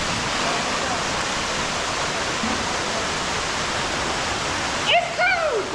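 A waterfall roars as a steady, loud, unbroken rush of water close by; near the end a voice cuts in briefly over the torrent.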